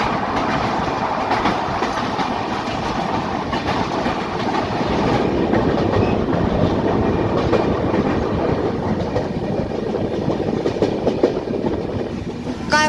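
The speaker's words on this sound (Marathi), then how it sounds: "आणि आता आपली गाडी कृष्णा नदी ओलांडत आहे" Dikshabhumi Express crossing the bridge over the Krishna river, a loud, continuous rattle and roar of wheels on the span, with rapid clattering beats sustained throughout from inside the train.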